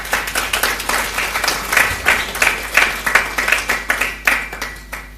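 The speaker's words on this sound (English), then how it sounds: "they deserve a round of applause" A crowd at a commemoration event applauds, with individual claps sharply audible and swelling in rhythmic pulses. The clapping fades near the end.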